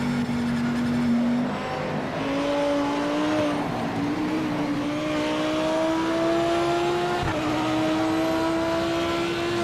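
Audi race car engine in the Project Motor Racing video game, heard from an outside view, a steady droning tone that climbs gradually in pitch through the gears, moderately loud and with no talking.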